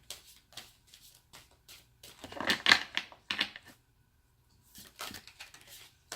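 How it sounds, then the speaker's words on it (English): Oversized tarot cards being shuffled by hand: soft papery riffles and scrapes in uneven bursts, loudest in the middle, close and fairly quiet against a silent room. "These cards are so big, they're really hard to shuffle."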